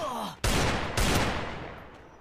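Gunfire in Free Fire Max: two loud, close blasts about half a second apart, each trailing off into a long decaying echo.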